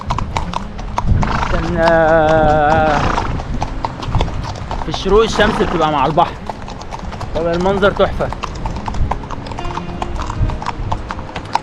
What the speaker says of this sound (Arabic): رايحين نركب خيل مع الشروق